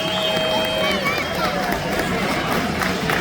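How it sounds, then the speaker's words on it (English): A rodeo crowd at a Florida ranch show claps and cheers in a continuous, mid-distance roar, while an announcer talks over the applause. "give her a little round of applause on the way back to Zero Beach"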